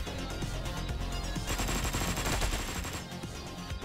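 Gunfire in Hotline Miami 2 during a bank job level: dense, punchy shots layered over loud, driving game music with steady thumping beats, no talk.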